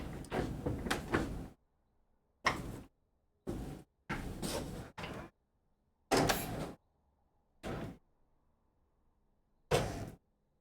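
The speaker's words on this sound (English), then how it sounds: "It's gonna be a loud door." Door sounds come in a series of abrupt, loud bursts separated by near-silence, each lasting about half a second to a second, with a cluster of repeated hits at the start and scattered single ones after.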